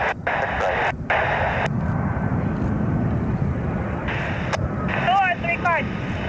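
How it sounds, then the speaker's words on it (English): A Frontier airliner touches down at Cleveland Hopkins Airport with a steady, broad engine roar heard from a distance, while radio air-traffic voices talk over it. "This is going to be close because Frontier just touched down"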